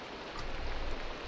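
Steady Minecraft rain hisses as a dense, even wash of falling drops, swelling slightly partway through, with no voices or other sounds on top.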